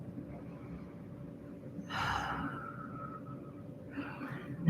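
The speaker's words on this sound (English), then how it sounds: "Taking another deep breath" A deep breath during a yoga session: a soft, close inhale swelling midway and another quieter breath near the end, over a low steady room hum.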